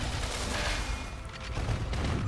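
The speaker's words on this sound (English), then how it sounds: "Cannons!" Cannons fire in the online game Aura Kingdom, a dense rumbling barrage of rapid booms and crackling blasts layered with busy game noise.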